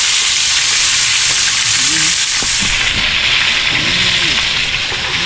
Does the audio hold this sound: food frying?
yes